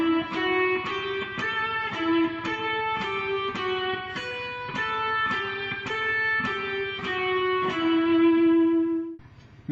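Measure 13 of Pachelbel's Canon in D played on guitar as a steady run of plucked single notes with a bright, slightly effected tone, moving through a descending melodic line without any voices.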